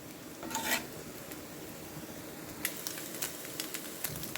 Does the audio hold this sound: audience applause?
no